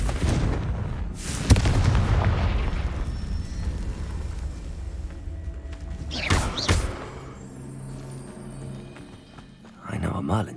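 Explosive booms from the Confringo fire spell in Hogwarts Legacy: a sharp blast near the start, another burst around the middle and a final boom at the end, over a low game background.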